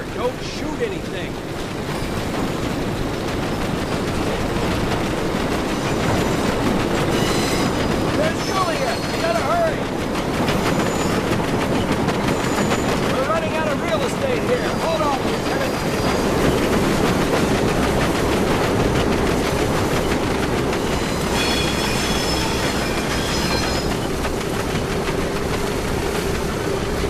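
Train rumbling and clattering along the tracks in Medal of Honor: Above and Beyond, a steady rolling clickety-clack with metallic squeals and tones layered over it, loud and continuous throughout.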